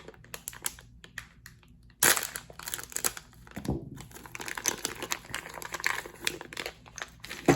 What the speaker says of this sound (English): it just comes in this sealed plastic package.